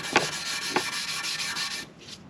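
Rapid back-and-forth hand rubbing on rusty, corroded motorcycle exhaust headers, a bright, steady scouring hiss with two sharper strokes early on before it stops.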